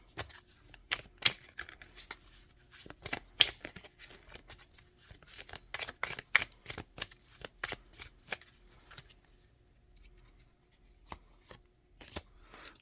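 Playing cards are shuffled and drawn during a tarot-style reading, a close, soft run of riffling flutters and slaps that thins out toward the end, with scattered single card snaps and no talking.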